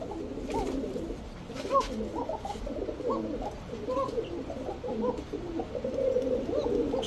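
Bashiraj Koka breeding pigeons coo repeatedly in low, throaty bursts, several birds overlapping in a steady, close chorus.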